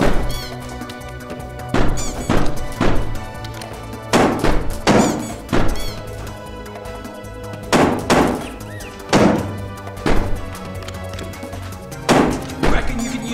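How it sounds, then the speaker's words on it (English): Heavy shotgun blasts thud against an enemy's shield in the cartoonish game Sneaky Bears, repeated loud impacts in irregular clusters over a steady game music bed. "Shotgun on that dude's shield! That's gotta hurt him!"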